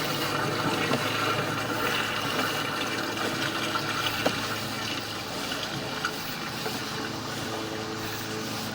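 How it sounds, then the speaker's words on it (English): After a toilet flush, water drains through an old cast iron pipe in a house built in the 1920s, making a sustained gurgling rush with occasional knocks and slight swells, steady and close, without speech. "somebody just flushed the toilet, so I'll be pausing the video until the water subsides"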